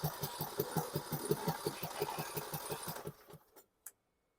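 A 2018 Poulan Pro PP19A42 riding lawn mower engine cranks over with a rapid, steady chugging rhythm for about three seconds, close and loud, then cuts off abruptly, leaving a brief click afterward.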